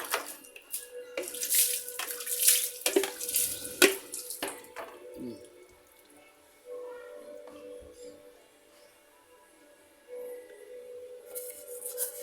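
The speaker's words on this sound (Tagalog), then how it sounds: "tapos bubuhusan natin ng tubig." Water poured over a motorcycle engine during cleaning with dish soap, detergent powder and vinegar, a splashing, hissing run in the first few seconds, then a fainter, steadier trickle with lulls.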